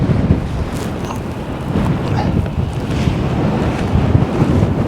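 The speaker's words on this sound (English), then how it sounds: "Oh, that's windy, blimey, that's windy." Strong, steady wind roaring and buffeting the microphone while paragliding, a constant rushing noise with no voices.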